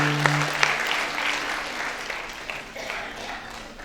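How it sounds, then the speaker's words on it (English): An audience claps through a sustained round of applause at a school felicitation prize ceremony, starting after a brief spoken tail and slowly thinning out. "I'm sure you're not tired clapping."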